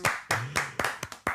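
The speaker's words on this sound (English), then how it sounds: "Can we get a round of applause?" A few separate hand claps ring out, about seven sharp, close strikes spaced irregularly over a second or so, a small, sparse round of clapping rather than a full crowd.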